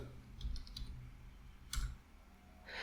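A few soft clicks of computer keyboard keys typed in quick succession, faint and close, with light background noise.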